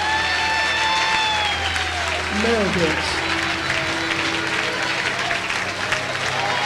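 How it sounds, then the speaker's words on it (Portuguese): Loud congregation applause during a Pentecostal church service, a dense wash of clapping with a sustained tone and a voice calling out over it. "aplauda Jesus bem forte."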